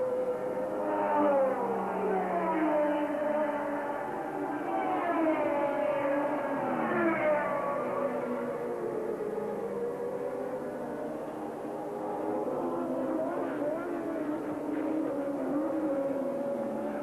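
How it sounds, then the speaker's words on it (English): Formula 1 race cars at the 1982 South African Grand Prix, including a Williams with a Ford Cosworth V8 engine, scream continuously with rising and falling engine pitch, loud and sustained throughout. "the white and green Saudia Williams car with its Ford Cosworth V8 engine"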